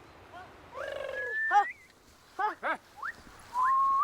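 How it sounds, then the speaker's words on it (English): A honeyguide bird in African woodland answers with a string of chattering, whistled calls, some rising and sliding, others in short clipped bursts, close and clear against a quiet background. "Very quickly, the bird responds, and singing and flying from tree to tree, he encourages them to follow him."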